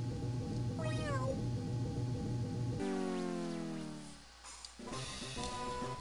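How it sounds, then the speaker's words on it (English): A cat meows in the video game Mother 3, a few gliding electronic meow calls over looping game music, close and clear. "It meowed at me."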